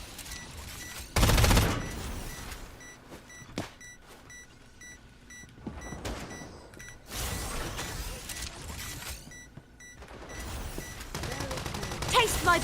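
Gunfire from the shooter game Girls Frontline 2: Exilium opens with a loud, dense burst, then continues as scattered shots, mechanical clicks and electronic beeps, with game voice lines heard at points among the combat noise.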